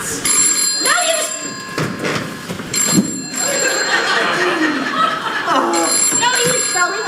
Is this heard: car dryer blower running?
no